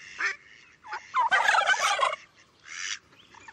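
A turkey gobbles on a farm in a loud rapid warble, with several short calls before and after the main burst.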